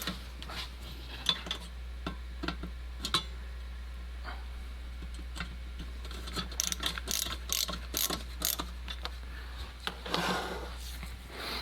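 Small screws being tightened down on a Coleman 500a camp stove on a workbench, giving soft irregular clicks and ticks of a driver turning, faint and close, with no talk.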